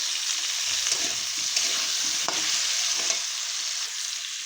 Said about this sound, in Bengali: আলুর উপরে আমি নুন ছড়িয়ে দিয়েছি, একসঙ্গে ভেজে নিই